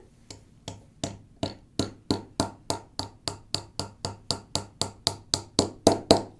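Mallet knocking on a wooden straight razor build, about eighteen sharp, evenly spaced close strikes in a steady rhythm, growing slightly louder toward the end.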